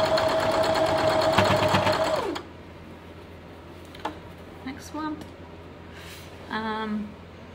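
A sewing machine chain piecing quilt block pieces for a Dutchman's Puzzle block: a loud, steady mechanical whir that stops abruptly after about two seconds, followed by quiet handling and brief talk.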